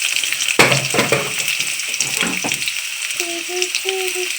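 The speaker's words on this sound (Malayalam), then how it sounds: "നമ്മൾ അരിഞ്ഞു വെച്ചിരിക്കുന്ന എല്ലാ മാങ്ങയും നമ്മൾ അതിലേക്ക് ആഡ് ചെയ്ത് കൊടുത്തിട്ടുണ്ട് നല്ലെണ്ണയിലേക്ക്" Chopped mango frying in sesame oil for a pickle: steady sizzling with stirring clatter and a few sharp knocks near the start, then high tonal chirps toward the end. No talking.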